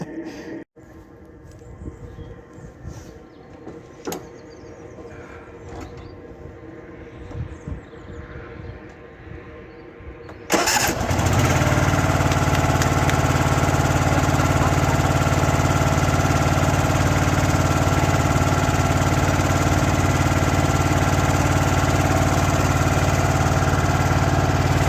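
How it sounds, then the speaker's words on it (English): After some clicks and quiet shuffling, an engine cranks and catches once its battery is reconnected, then settles into a loud, steady, close idle that runs unbroken to the end. "let's have a little look and see what happens now when we try and start it."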